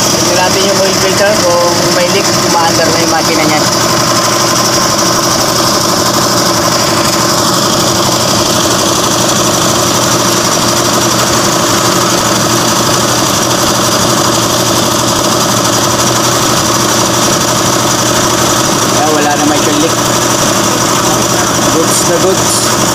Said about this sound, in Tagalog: umaandar na yung makina niyan